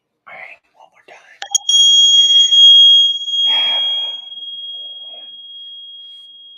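A small struck bell rings once with a bright, sustained metallic tone that decays slowly over several seconds, following a few quiet taps and faint talk.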